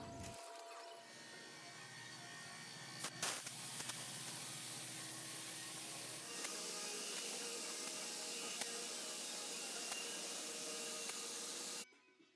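A spray gun sprays clear coat over a Nissan 240SX coupe body in a home garage, a steady, loud broadband hiss that runs almost unbroken for about eleven seconds before cutting off abruptly.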